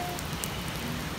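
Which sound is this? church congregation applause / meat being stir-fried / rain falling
rain falling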